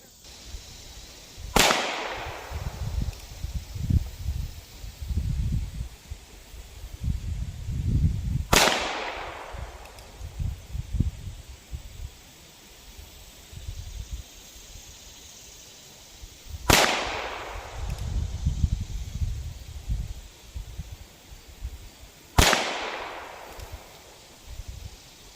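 Four sharp, loud gunshots from a Ruger Super Wrangler revolver firing CCI rounds, spaced several seconds apart, each ringing out with a decaying echo, with rustling and handling noise between shots.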